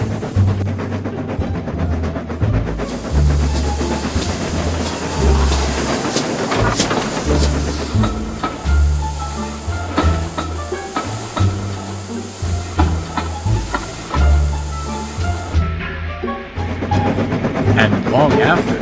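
Steam locomotive Murdoch rushes past with rhythmic clickety-clack of wheels, hissing steam and a drawn-out whistle over a rumbling train, while a voice talks over it.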